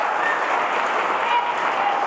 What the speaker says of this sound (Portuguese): Pode bater palmas, aleluia.